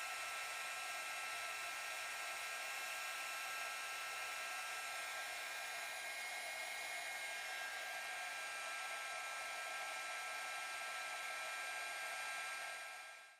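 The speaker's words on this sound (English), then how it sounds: "Now I'm just going to take my heat gun and a little bit of solder and solder those on." Heat gun blowing steadily while solder melts to attach rhinestone chain onto an Egyptian scarab necklace, a continuous close airy whoosh with a faint whine that holds for the whole stretch, then cuts off at the end, no talk.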